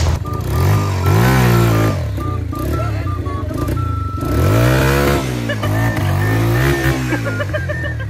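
Motorcycle engines rev up and down repeatedly nearby, loud rising and falling drones as the bikes ride and accelerate.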